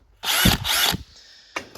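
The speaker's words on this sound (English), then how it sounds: "I'm just using a cordless drill on all these holes" A cordless drill with cobalt bits whirs in two quick bursts as it bites into plates, a quieter motor hum between them, then starts again briefly.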